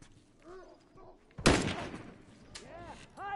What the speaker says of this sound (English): Gonna let off a shot.